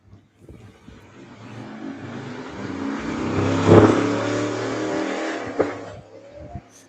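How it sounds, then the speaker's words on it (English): Motorbikes pass by outdoors, rising to a loud close sweep and then fading, with a few fainter engine whines before and after and no voices over them. "the bikes are going by as per usual"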